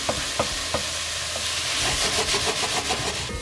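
Chopped vegetables frying and caramelizing in a pan for a beef cheek ragu, a dense close sizzle with a few sharp crackles early on and the continuous hiss of stirring throughout, with no talking.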